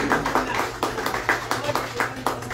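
A church congregation clapping in praise during a Portuguese-language sermon, quick rhythmic claps in a steady beat, moderately loud, with a voice over them.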